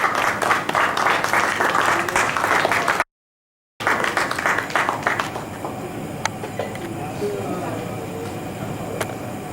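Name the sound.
audience applause for speaker at medical conference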